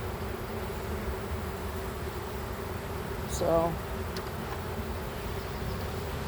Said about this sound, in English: These bees go back in that other hive